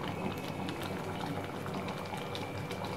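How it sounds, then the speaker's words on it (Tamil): A pot of Punjabi-style dal tadka bubbling at a steady rolling boil, dense continuous gurgling and popping close by, with no voices. "நம்ம நல்லா இப்ப கொதிக்க வைக்கிறோம்"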